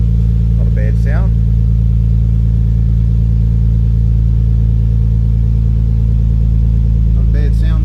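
A 1997 JDM Nissan 300ZX Z32 twin turbo engine idling, a loud, steady low rumble running throughout, with a voice briefly talking over it near the start and end.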